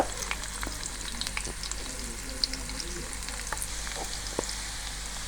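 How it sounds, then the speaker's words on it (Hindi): Garlic sizzles and crackles in hot oil for a sabat mash tadka, a steady close-up frying hiss with small pops throughout. "ऑयल हमारा गर्म हो गया। अब हम इसमें लहसुन शामिल करेंगे।"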